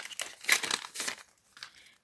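Close, crisp crinkling and tearing of a paper packet being opened, in short bursts over a couple of seconds.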